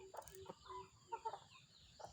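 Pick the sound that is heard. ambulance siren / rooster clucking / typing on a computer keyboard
rooster clucking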